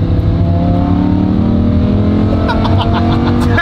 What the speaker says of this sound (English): Yes, here comes a car.